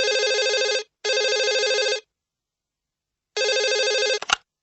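A telephone rings in three loud, even electronic bursts, the first two back to back, then a pause before the third, which is cut short by a click as the receiver is picked up.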